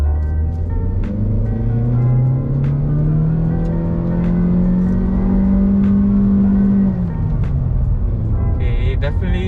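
An 11th-generation Honda Civic RS makes a full-throttle launch at Sepang, its engine droning loud and close as the pitch climbs steadily through the rev range before easing off, with a voice faintly under the noise.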